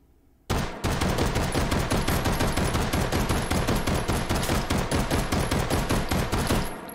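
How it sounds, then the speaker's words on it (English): A Luger 1902 carbine in the H3VR game, firing 9x19 Parabellum rounds one-handed, gives a loud, close, rapid string of about thirty shots in an even rhythm after a brief quiet start. Nothing else is heard. "recoil test. 32 rounds of 9x19 Parabellum"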